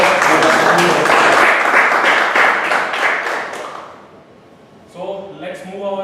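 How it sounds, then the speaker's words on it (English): A big round of applause at a Toastmasters club meeting: loud, dense clapping that swells and then slowly dies away, with a voice starting to speak once it fades. "I give a big round of applause"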